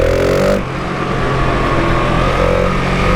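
GasGas SM 700 supermoto engine revving high and loud up close, a sharp rise easing into a sustained, steady high-rpm drone with no talk over it.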